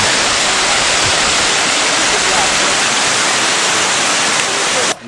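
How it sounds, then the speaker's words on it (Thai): Waterfall on the trail to Taktsang temple in Bhutan pours in a loud, dense, continuous roar of rushing water, close by and steady throughout before cutting off abruptly at the end. "อันนี้ก็คือ น้ำตกนะครับ น้ำตกที่ไหลลงมา"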